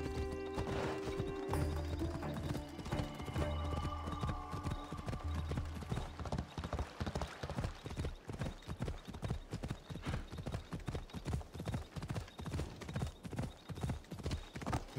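Rapid, steady clip-clop of horse hooves at a fast trot in the video game Assassin's Creed Odyssey, loud and close, with a brief whinny near the start over low background music.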